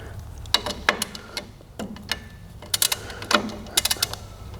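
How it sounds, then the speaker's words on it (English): Socket wrench on a bolt under a Porsche 911 Turbo (964) replica chassis, with a poorly seated socket; several bursts of close, sharp ratcheting clicks with short pauses between, fairly quiet. "Don't know what bolt this is, but socket's not really sitting well, but it's doing its job."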